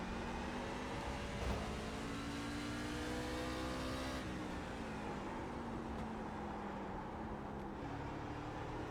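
A truck engine in the iRacing sim bogs down at Martinsville, a steady strained motor drone that drops in pitch under load, loud and continuous with no talk.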